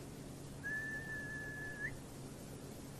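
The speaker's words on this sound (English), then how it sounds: "Just then, they heard a whistle." A single sustained whistle at a steady high pitch, lasting just over a second with a slight upward flick at the end, over low background rumble.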